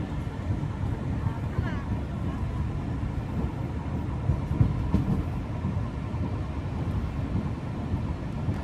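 A Mongla commuter train with a 66-series locomotive at the rear rumbles steadily along the rails, heard from a seat on the locomotive, with a continuous low roar and rattle throughout.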